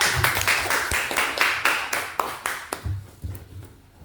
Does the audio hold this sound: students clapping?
yes